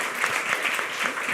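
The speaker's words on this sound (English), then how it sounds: "A big round of applause to both of you for your excellent work." A conference audience applauds steadily, dense overlapping claps filling the space at a fairly loud level with no voices over it.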